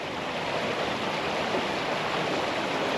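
Clean river water rushes steadily in a dense, unbroken broadband roar, close and constant with no pauses or voices.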